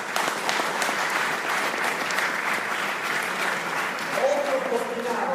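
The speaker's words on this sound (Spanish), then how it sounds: "un aplauso fuerte para el Señor" Steady applause from a church congregation fills the room at a sermon, sustained and even throughout, with a faint voice surfacing near the end.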